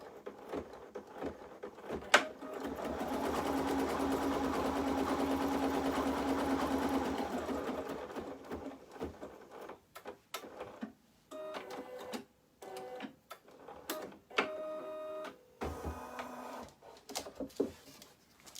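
An embroidery machine stitches down fabric squares in a hoop, a rapid mechanical whir running steadily for several seconds, then breaking into short stop-start bursts with clicks and small thumps.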